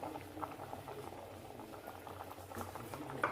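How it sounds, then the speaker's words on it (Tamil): A pot of peas salna curry bubbles at a rolling boil, soft steady blubbing and popping close up at low volume, with no voices over it. "நல்லா இப்போ கொதி வந்துருச்சு"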